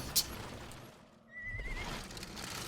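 A horse in Sonic and the Black Knight gives one high, wavering neigh after a short sharp knock, heard faintly under game background sound.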